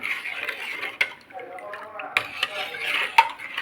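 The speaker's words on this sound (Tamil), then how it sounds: "தூளுப்பு நல்லா கலக்குவோம்" Coconut milk with palm jaggery and salt being stirred in a pot, giving soft scraping swirls punctuated by a few sharp clinks of a spoon against the vessel, close and fairly quiet.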